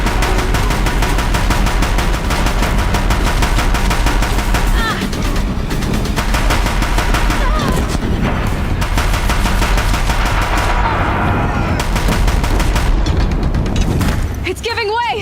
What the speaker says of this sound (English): If the Deathbringers keep firing,